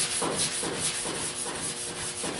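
Steady rhythmic rubbing of a sanding block over a car body panel, repeated back-and-forth strokes with a dry abrasive hiss, close and even.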